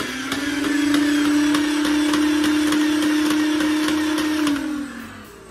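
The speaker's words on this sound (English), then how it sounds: "you pull down this trigger halfway to rev and all the way down to fire" A Nerf Rhino Fire flywheel blaster spins up to a loud, steady high whine while darts fire fully automatic in a rapid even stream of clicks, then the motors wind down at the end.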